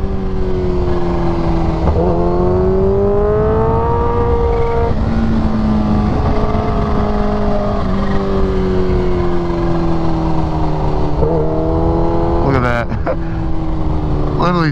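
A Kawasaki Ninja H2R motorcycle accelerates on an abrupt on-off throttle, its engine note rising and dropping in stepped surges under steady wind rush. Someone talks over the ride throughout.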